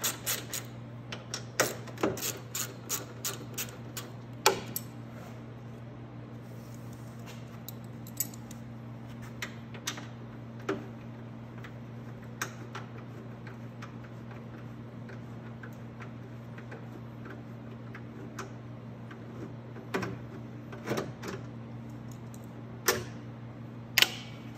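An 8mm socket and 10mm wrench work the gas tank bolts on a Venom Mini Jeep 125cc, giving scattered light metallic ticks and clicks over a steady low hum, close by with no talking.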